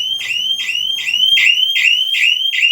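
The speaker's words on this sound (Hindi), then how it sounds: "आप देख सकती हैं कि एक्सटेंडर के थ्रू हमारी लैच जैसी छूटी वैसे ही अलार्म बज गया" A PIR security system alarm set off by a released shutter latch sounds a loud, repeating electronic siren, with about six identical rising chirps in a steady, fast rhythm and no voices.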